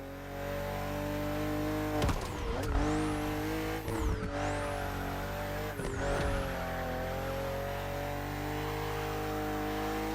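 A BMW CSL in the racing game The Crew Motorfest with a sustained engine drone under load and several sharp gear-shift dips and rises, heard steadily close with no talk.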